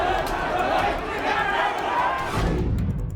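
A packed crowd scuffles with police before a baton charge, a loud, continuous roar of shouting voices and commotion that shifts into heavier low rumbling near the end.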